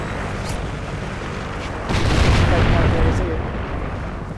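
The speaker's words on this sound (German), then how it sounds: "Verbündeter Heli kommt." In a Call of Duty: Ghosts team deathmatch, an allied helicopter arrives amid gunfire and booming blasts, the rumble swelling louder midway, with a player's voice speaking over the game noise.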